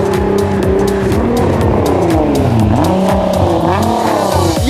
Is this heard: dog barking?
no